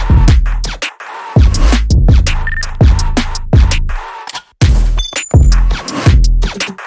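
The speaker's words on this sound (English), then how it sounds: "I have these silence pistols hitting at the offbeats just to add just more bounce" Suppressed pistol shots land on the offbeats of a punchy electronic remix groove, sharp clicks and clinks cutting through heavy kicks and bass in a steady, bouncing rhythm.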